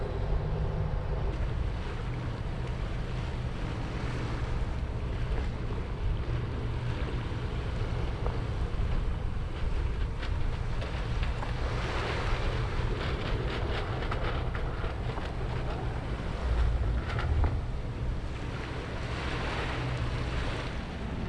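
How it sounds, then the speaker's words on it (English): A sailboat motor sailing across the Gulf of Carpentaria with its headsail set: a steady low engine drone blended with rushing water, wind buffeting the microphone and washing waves, continuous and unbroken with no voices. "still motor sailing, just need to charge those batteries a bit"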